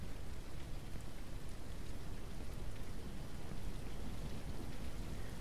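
Steady rain pours down in the farming game Ranch Simulator, a dense, continuous hiss of drops with low rumbling texture and no pauses or voices.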